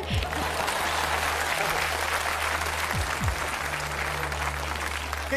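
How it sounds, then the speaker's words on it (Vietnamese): Audience applause fills a theater during a live Vietnamese comedy play, steady, dense clapping that holds throughout, with low tonal hum and brief sliding tones underneath. "À, em trả lời hay quá, nhảy vỗ tay."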